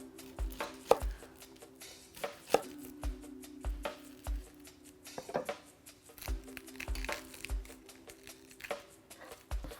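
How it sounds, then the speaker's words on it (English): A knife cuts an onion into thin julienne strips on a cutting board, producing a series of crisp, close chopping taps in quick clusters with short pauses between. "For my onion, I'm going to cut into nice thin juliennes."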